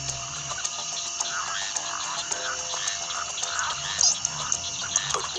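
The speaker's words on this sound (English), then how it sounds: "frogs try to stay hidden or reduce their calls to a brief low-frequency rumble" A chorus of frogs calls continuously, high-pitched trills and croaks layered together at a steady moderate volume, with occasional louder chirps.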